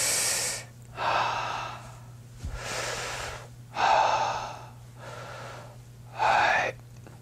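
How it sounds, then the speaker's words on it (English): Slow, deep breaths with a controlled, slightly squeezed exhale, heard close up as alternating broad airy bursts roughly every second and a half, with a steady low hum underneath and no talking. "Stomach fills with air, then as I exhale, I squeeze just a little."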